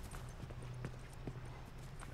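Faint horse hooves clip-clopping in the video game The Last of Us: Left Behind, a few soft, evenly spaced hoofbeats over a quiet background.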